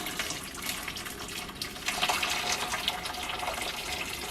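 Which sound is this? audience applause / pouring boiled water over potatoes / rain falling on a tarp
pouring boiled water over potatoes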